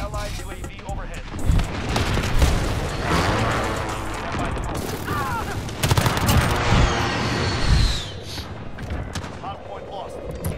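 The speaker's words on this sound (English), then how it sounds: "Allied precision airstrike in." Explosions from an allied precision airstrike rumble and crack in the Modern Warfare video game, with repeated heavy booms and bursts of gunfire layered into a dense, loud battle din.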